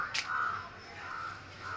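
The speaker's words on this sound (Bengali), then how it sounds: "এটা পায়রা না, এটা কাক।" A crow caws three times in a row, harsh and fairly loud against a faint outdoor hum.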